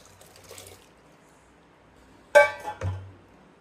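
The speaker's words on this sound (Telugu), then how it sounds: "పప్పు వాటర్ అండి, పోసేస్తున్నాను నేను" Dal water poured into a cooking pot for drumstick sambar, a short splashing pour after a quiet pause, with a faint earlier trickle.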